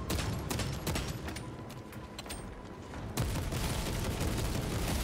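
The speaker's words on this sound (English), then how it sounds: "So we'll just keep on shooting." Dense, rapid gunfire from the video game Space Marine 2 rattles without pause. Bursts overlap into a constant barrage that grows louder partway through. No voices.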